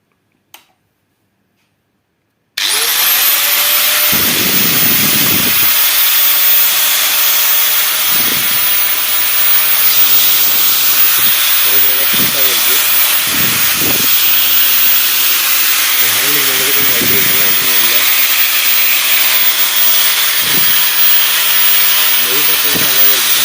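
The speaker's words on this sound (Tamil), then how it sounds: "மிஷினை வந்து நம்ம ஆன் பண்ணி பார்க்கலாம் எப்படி இருக்குன்ட்டு." A Hitachi PDA 100M electric cutting machine starts with a sharp onset, then runs as a loud, steady motor whine and broadband hiss for about twenty seconds, with brief low thumps and voices faintly underneath.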